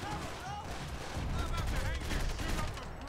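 Dense, rapid gunfire from a shootout in the video game Max Payne 3, with bursts of shots overlapping into a loud, continuous fusillade close up, with a voice talking over the shooting.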